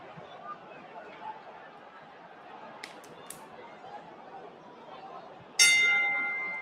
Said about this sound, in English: There's the bell.